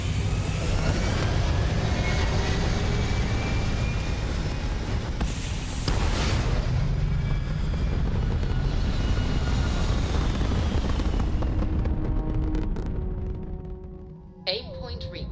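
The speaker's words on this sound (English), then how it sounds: "All thrusters firing." Spaceship thrusters firing in the game Starfield, a loud, steady engine-like roar that holds for the whole stretch, with a brief surge partway through and a dip near the end.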